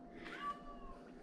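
A gray rescued cat meows once, a faint drawn-out cry outdoors in a creekside yard garden, heard alone.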